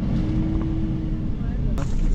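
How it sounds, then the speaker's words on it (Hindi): Busy road traffic on a crowded market street rumbles continuously close by, with engine noise and a sudden sharp sound near the end, all quite loud. "ट्रैफिक भी फुल है"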